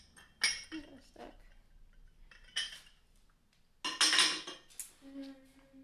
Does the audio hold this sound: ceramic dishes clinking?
yes